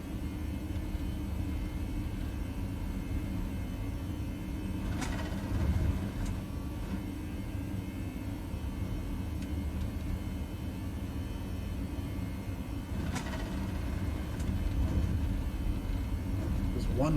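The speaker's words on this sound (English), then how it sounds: "One long takeoff roll." A Toliss A321 airliner rolls for takeoff in X-Plane 11, a steady low engine rumble and roar with a few faint clicks, heard under quiet background.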